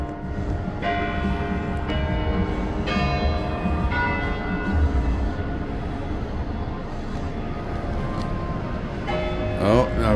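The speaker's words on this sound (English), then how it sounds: "Oh, just in time for the bells we are." Church bells ring repeatedly in a slow, overlapping peal in Chicago, moderately distant, with faint background chatter underneath.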